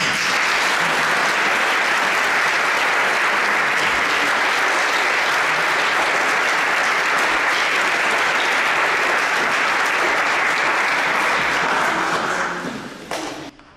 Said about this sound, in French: nous les remercions aussi en les applaudissant